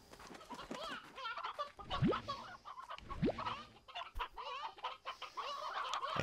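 Stony hens clucking in the video game Slime Rancher, a busy layer of short clucks and squawks with a couple of rising calls, fairly close and moderately loud throughout.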